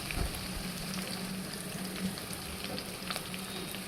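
Chopped onions fry in a pan with a quiet, continuous sizzle that stays low and even, with only faint crackles rising above the hiss.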